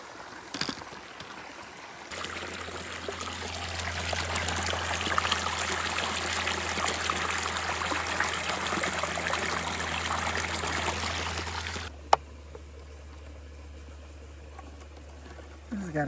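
Water rushing at Prescott Falls along a hiking trail, a broad steady roar that swells in after a couple of seconds, holds loud and even, then drops to a softer flow near the end.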